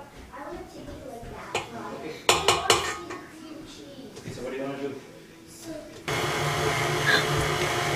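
A spoon works cream cheese frosting for red velvet cupcakes in a bowl, giving scraping and clinking strokes that rise to a cluster of sharp knocks midway, with a steadier whirring noise at the end.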